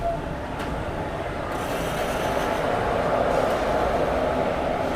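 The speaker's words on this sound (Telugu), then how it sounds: "ట్రైన్ వచ్చేసి తిరుపతి నుంచి మళ్ళీ కట్మడికి అయితే వెళ్ళిపోతుంది ఈ ట్రైనే" A MEMU passenger train runs at a railway platform on the Chittoor to Tirupati line, producing a steady, loud rumble of wheels and carriages that holds for the whole stretch, with no talking.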